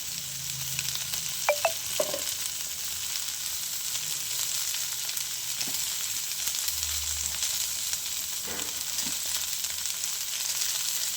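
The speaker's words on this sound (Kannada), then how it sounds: "ಮೀಡಿಯಮ್ ಫ್ಲೇಮಲ್ಲೇ ಫ್ರೈ ಮಾಡ್ಕೊಳ್ಳಿ ಫ್ರೆಂಡ್ಸ್." Ivy gourd (tondekai) frying in a pan over a medium flame with salt and spices, giving a steady, even sizzle throughout with a few brief clinks of stirring.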